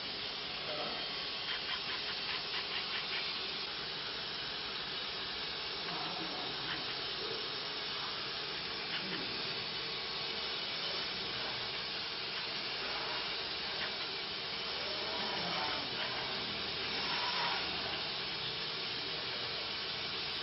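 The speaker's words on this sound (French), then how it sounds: "Notre appareil vaporisateur 360 degrés propage l'odeur de remède. La vapeur qui sort nous donne une bonne santé." Steady broadband hiss of steam pouring from a Vaporizer 360 steam vaporizer, continuous and fairly loud for the whole stretch with slight swells, no talking.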